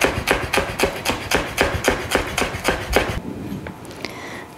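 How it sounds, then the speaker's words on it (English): A knife slices fresh chives thinly on a cutting board in quick, even taps, about a dozen sharp close chops in steady rhythm before stopping, followed by a quieter pause with faint handling. "For my fresh chives, I just give the end a nice clean cut and just slice them very thinly"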